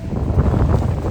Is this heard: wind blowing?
yes